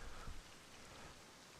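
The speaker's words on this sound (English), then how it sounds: "That rain is very hypnotic, isn't it?" Steady rain falls in the survival video game Rust, a faint, even hiss of drops that continues without pause.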